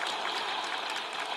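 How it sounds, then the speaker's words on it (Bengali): An audience breaks into loud, steady applause for an injured person who has been asked to stand, a dense unbroken wash of clapping filling the short moment. "তার জন্য একটা জোরে হাততালি।"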